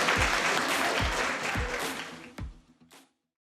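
A crowd applauds steadily, dense clapping filling the room before fading out over a few seconds into silence.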